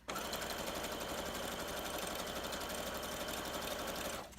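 A sewing machine stitches two-page paper journal signatures onto a fabric strip, running in one steady, rapid, mechanical whir for about four seconds before stopping, quite faint and close.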